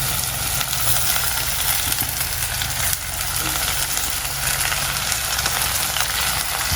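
Onions, curry leaves and other aromatics for a Sri Lankan banana blossom tempered dish fry in hot oil, giving a steady, close sizzle that runs throughout with faint stirring.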